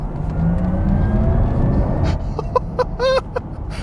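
Porsche Taycan GTS electric sports sedan accelerating hard on a race track, a steady loud whirring rush of motor and road noise that eases off toward the end, with a few sharp squeal-like tones near the close.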